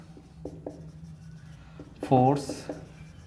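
Chalk or marker scratching on a board during a physics lesson on electric fields, several short strokes in a quiet room before a voice speaks briefly near the end.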